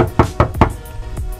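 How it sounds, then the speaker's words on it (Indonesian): Knocks on a body panel of a 2017 Honda Brio before sound dampening is fitted: four or five quick, hollow raps in an uneven rhythm, close and fairly loud, with no voice. "Ini suara yang dihasilkan oleh Brio sebelum dikasih ke peredam."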